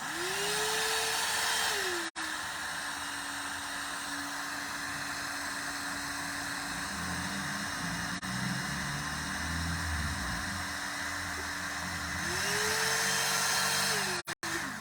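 A 1500-rupee hair dryer runs with a steady loud whoosh and hum, its pitch rising and dropping as settings change near the start and end, with a few brief clicks.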